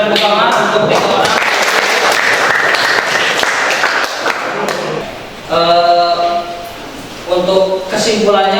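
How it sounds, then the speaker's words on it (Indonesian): Classroom applause from students during a teaching practice session, a dense burst of clapping that fills the first few seconds before fading, with people talking over and after it. "Kita beri tepuk tangan untuk 3 orang."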